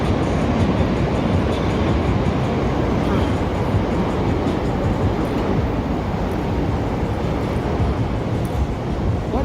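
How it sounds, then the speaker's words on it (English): An elevated train passes along Wabash in downtown Chicago, filling the street with a loud, steady, close rumble and rattle that runs throughout. "Look at this train here on Wabash."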